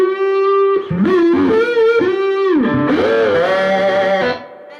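A slide guitar played with a Lucazite slide, sustained gliding notes bending up and down through several phrases, loud and close, with a distorted, effected tone and no talking.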